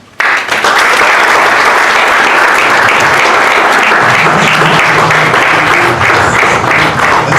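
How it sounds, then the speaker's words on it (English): Sustained loud applause from a crowd at a finalists' dinner, dense steady clapping that starts abruptly and continues without pause, with a few voices faintly mixed in. "Let's keep clapping and appreciating our peers"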